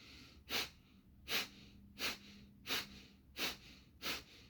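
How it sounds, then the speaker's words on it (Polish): Breath of fire exercise for the solar plexus chakra: six sharp, forceful nasal exhalations at a steady rhythm about every 0.7 seconds, close and clear with quiet pauses between. "Pierwszą rzeczą będzie oddech ognia"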